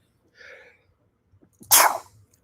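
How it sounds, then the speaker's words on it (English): A single loud, sharp human sneeze bursts out up close after a faint breathy intake, then fades quickly into quiet. "I had to sneeze a little bit there."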